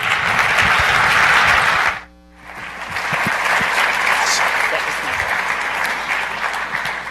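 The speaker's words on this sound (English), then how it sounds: "Huge round of applause" Audience applause at a conference talk session, a dense, loud wash of clapping that stops briefly near the two-second mark, then swells back and carries steadily to the end, with a little crowd noise underneath.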